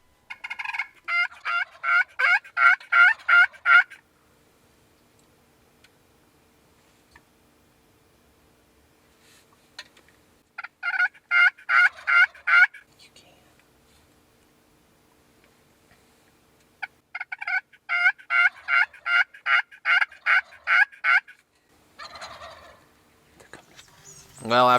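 Wild turkeys gobbling in the woods, three loud rapid-fire gobble bursts of several seconds each separated by long quiet gaps, with a fainter call near the end.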